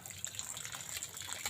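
Running water splashes steadily as chicken is washed thoroughly under a flowing stream, a continuous broadband gush with small splashy fluctuations, close and moderately loud, without any voices.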